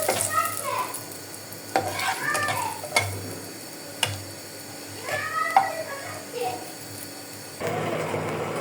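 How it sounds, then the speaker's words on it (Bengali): Dried red chillies fry in oil for a Bengali tomato bhorta, a low sizzle with stirring scrapes and clicks, while a cat meows nearby and faint voices come and go. "শুকনো মরিচটা দিয়ে দেব। তেলে দিয়ে ভেজে নেব।"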